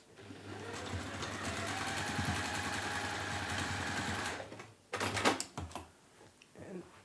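A sewing machine stitches across nested fabric seams on a bunny sewing project, running steadily and fairly close for about four seconds. It then stops, followed by a few sharp clunks and handling noises.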